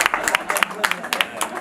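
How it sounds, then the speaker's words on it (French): At a family centre inauguration in Strasbourg, an audience claps for Evelyne, with scattered, uneven handclaps under close talk throughout. "Les applaudissements pour Evelyne."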